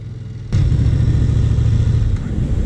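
A Honda CRF 300 Rally motorcycle on beach sand near the waterline: after a quiet idle, the engine surges into a loud, sustained revving roar that holds steady, easing slightly near the end as it shifts up a gear.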